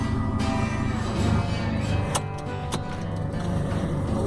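A car engine idles steadily while warming up on a rainy winter day, a low continuous rumble close by with a couple of brief sharp clicks partway through.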